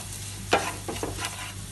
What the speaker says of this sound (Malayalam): എന്നിട്ട് ഇതൊന്ന് ഇളക്കി കൊടുക്കാം